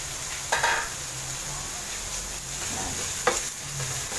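Sausage and chicken sizzling softly in a pan, with a steady frying hiss, a few light stirring scrapes, and a couple of brief clanks of utensil against the pan.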